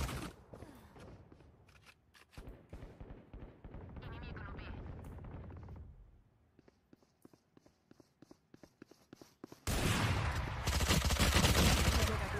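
Gunfire in a shooter video game, including AWP sniper rifle play, comes in scattered bursts and rapid volleys, with a louder sustained barrage near the end and players' voices talking between shots.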